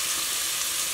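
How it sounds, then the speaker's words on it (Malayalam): Chopped onions frying in hot ghee for a Kerala-style mutton ghee roast, a steady close sizzle with fine crackle throughout, no talking. "ഈ നെയ്യ് ചൂടായി വരുമ്പോൾ നമ്മൾ നേരത്തെ അരിഞ്ഞു വെച്ച ഈ സവാളയും"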